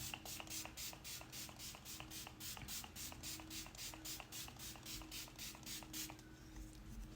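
Quick, repeated spritzes from an e.l.f. Stay All Night setting spray bottle hiss in a steady rhythm onto a face, about a dozen bursts close by, then stop.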